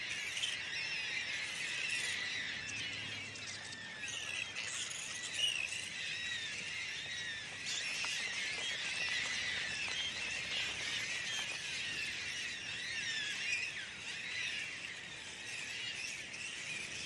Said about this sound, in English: Eventually, the noisy birds move on